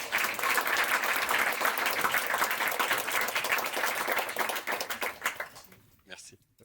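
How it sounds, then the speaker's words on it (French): An audience applauds Thomas as he comes on stage, a dense, steady wash of clapping that thins into a few scattered claps before fading out near the end. "Merci d'applaudir Thomas."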